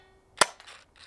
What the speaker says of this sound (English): I'm going to fire a couple shots out of this blaster